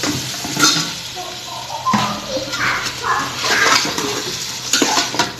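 Masala spices for beef curry sizzle and fry in a rice cooker as a utensil stirs and scrapes steadily, with close clinks of metal against the pot throughout.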